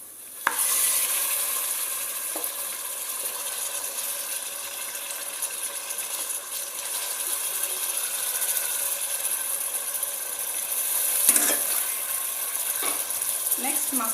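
Mutton curry with potato and fenugreek leaves fries in a pan, giving a continuous bright sizzle, with occasional scraping stirs and a couple of sharp utensil clatters against the pot.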